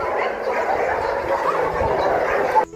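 Dogs barking and yipping close by in short, irregular bursts with whimpery tones, heard over a steady background hiss, with no talking.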